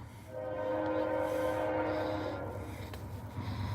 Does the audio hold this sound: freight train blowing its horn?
yes